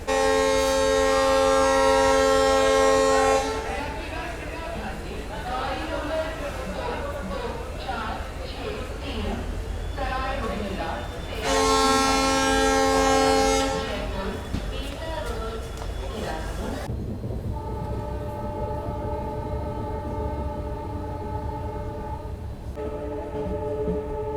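A train passes through Bandikui Junction railway station at night, heard as a steady rumbling roar with long sustained horn blasts at the start and again midway, while a person talks throughout.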